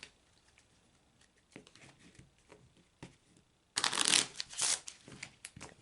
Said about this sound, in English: Take a moment to shuffle the cards my other way.